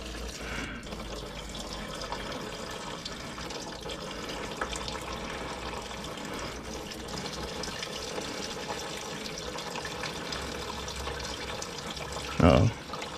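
Antifreeze coolant drains from a container's tap on an Acura RSX Type S, a steady close trickle and splash of liquid running continuously, with a brief louder gurgle near the end and speech heard under it.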